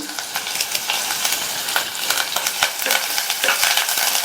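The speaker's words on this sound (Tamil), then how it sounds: "அதில் 1 டேபிள் ஸ்பூன் எண்ணெய் சூடானதும் அதில் ஒரு பிரிஞ்சி இலை, ஒரு மீடியம் சைஸ் வெங்காயம் கட் பண்ணது, கூடவே 2 பச்சை மிளகாவை கீரி சேர்த்துக்கங்க" Bay leaf, chopped onion and slit green chillies fry in hot oil in a pressure cooker, giving a steady, close crackling sizzle with small clinks and stirring scrapes throughout.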